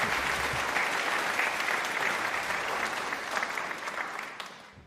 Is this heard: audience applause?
yes